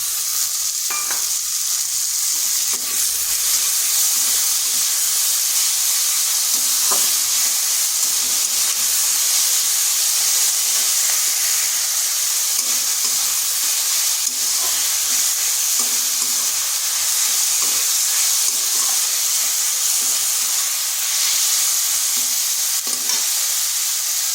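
Chopped tomato frying in hot oil in a pan for an egg and masoor dal dish: a loud, continuous hissing sizzle that holds steady for the whole stretch, with occasional soft stirring clicks and no voices.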